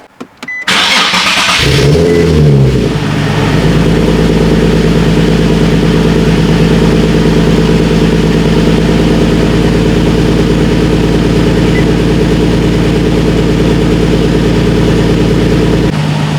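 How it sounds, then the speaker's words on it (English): A Nissan 370Z engine cranks and catches with a rising roar, then settles into a loud, steady, even idle that runs close by until it stops near the end. "Wait, the idle isn't fluctuating anymore."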